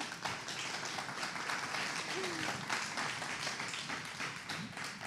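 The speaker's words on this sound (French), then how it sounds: "Je vous laisse applaudir si vous voulez" Audience applause after a speech at a women-in-digital-careers event in Montpellier, a steady dense wash of many hands clapping throughout, fairly even in level with no voices standing out.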